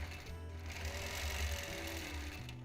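A sewing machine doing free motion quilting runs in a continuous fast mechanical hum and rattle, close and fairly quiet, with the motor pitch shifting slightly toward the end.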